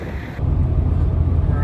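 Strong wind gusts buffet the microphone at a Texas roadside rest area, a loud low roar that swells after a brief calmer moment and stays steady.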